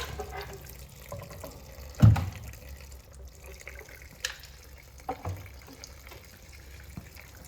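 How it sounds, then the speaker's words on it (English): Fuel drains from a Farmall 656 tractor into a jug outdoors, a low trickling and splashing flow with a brief louder gush near the start and a few scattered knocks, close by. "We want to get this fuel out of here so it's not running over."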